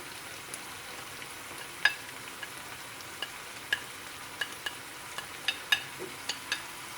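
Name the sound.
sauteing onion with chicken fajita in a pan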